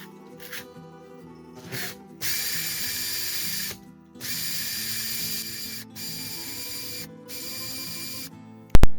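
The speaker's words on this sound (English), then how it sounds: "that just makes sure that you're sanding evenly on the inside of that ring." A power drill whines in several bursts of a few seconds each, sanding the inside of an antler ring, with brief pauses between, close and loud, ending in a sharp click.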